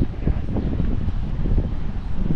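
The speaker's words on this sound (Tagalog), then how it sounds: "Yung hangin na lang." Morning wind blowing outdoors after rain, a steady low rushing buffet against the microphone throughout, fairly loud and continuous with no voices.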